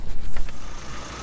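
A 1986 Panther Kallista with a 2.3-liter overhead-cam engine and factory air conditioning idles with a steady low rumble, heard close and fairly loud, with no talk over it.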